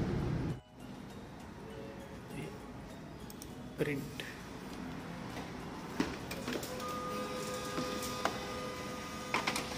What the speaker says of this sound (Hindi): ये सब काम रख दो और इसको करते हैं प्रिंट